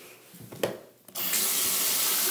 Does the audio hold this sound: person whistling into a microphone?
no